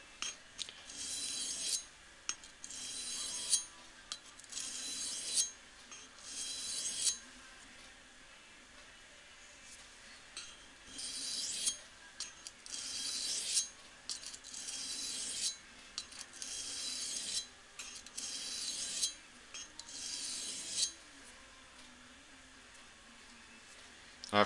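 A knife blade is stroked across a sharpening stone to refine its edge bevel, giving close, dry rasping scrapes in repeated bursts of several strokes separated by short pauses.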